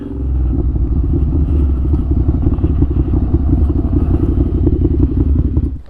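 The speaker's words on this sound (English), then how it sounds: "you're welcome to be a part of my motorcycle ride" A Ducati Scrambler motorcycle engine rumbles steadily at close range while riding, a low throbbing drone with light rattling, then fades slightly at the end.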